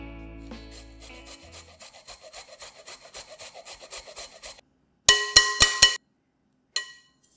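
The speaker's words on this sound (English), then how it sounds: "To this, grate in 1 teaspoon of ginger." Fresh ginger is grated over minced pork on a hand grater, giving a run of quick, rhythmic rasping strokes close by, then a short burst of sharper, louder scrapes and a final brief rasp, with no talk.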